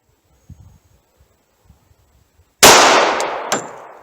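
A single .45 ACP Critical Defense 185-grain pistol shot cracks sharply and loud after a few quiet moments of faint shuffling, followed by a ringing decay and a metallic clink shortly after.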